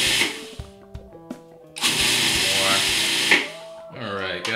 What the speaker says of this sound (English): Pour your sesame seeds in, and we're just gonna get a coarse grind on them.